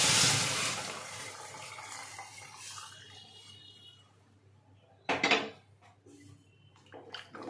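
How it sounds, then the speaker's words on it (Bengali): Water is poured into a pan of dalia khichdi. It starts with a loud rushing splash that fades, then a short clatter of the pan and a few lighter knocks follow. "এবারে দিয়ে দিচ্ছি পরিমাণ মতো জল।"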